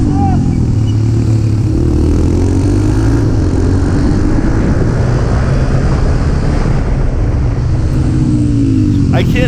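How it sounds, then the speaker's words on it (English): Car engine at an American Supercamp driving school, revving loud and steady throughout with rising and falling pitch sweeps as the driver blips the throttle to rev match on downshifts. "I can't help but rev match."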